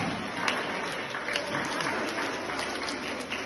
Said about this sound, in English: clap for yourself 7 times